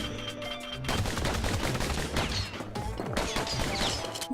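Gunfire in the video game Bastion arrives as rapid bursts of sharp shots with crashes and impacts, loud and continuous over a busy, layered game soundscape after a brief quieter opening.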